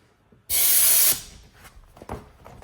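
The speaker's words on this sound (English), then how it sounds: "once the air compressor hose starts pushing air through" A loud burst of compressed air hissing through a truck-mounted lawn care spray tank hose for about half a second, then cuts off, leaving faint rustling and low knocks behind.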